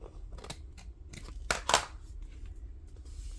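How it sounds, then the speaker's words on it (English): Small scissors snipping paper while building the base of a flip-flop journal, a few quick close cuts and crisp crinkles clustered mid-way, with a faint rustle between. "I'm probably gonna have to take my itty bitty scissors"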